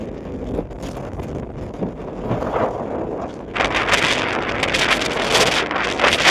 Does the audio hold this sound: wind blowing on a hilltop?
yes